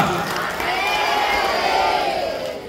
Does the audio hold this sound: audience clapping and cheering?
yes